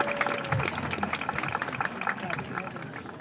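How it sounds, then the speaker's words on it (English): Applause from the audience at the Fair Lawn High School 2022 commencement, a dense crowd clapping steadily at moderate distance with faint crowd murmur throughout. "I'd like to give a big round of applause to our friends and families that are gathered here this evening"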